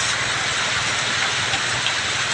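Heavy rain pouring down in a dense, unbroken hiss, loud and close, with no voices.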